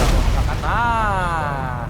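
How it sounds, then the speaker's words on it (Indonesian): A helicopter blows up in a mecha combat video game: a heavy explosive boom followed by a descending, ringing tonal sweep as the blast fades. "Meledak tuh mob helikopter."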